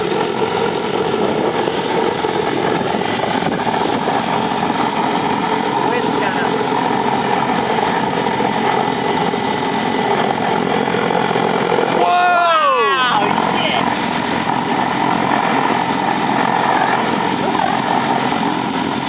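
A homemade backyard jet engine runs with a loud, steady roaring whine. Midway a sharp sweeping whistle rises and falls as the pitch shifts, and people talk over the noise.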